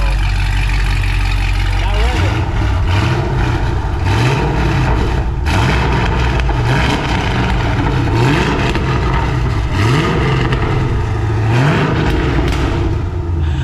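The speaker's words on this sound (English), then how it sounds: "we saw how it sounded up when we started it up and we revved it." A Camaro SS V8 idles with a deep rumble and is revved repeatedly in short, rising bursts through a new open exhaust.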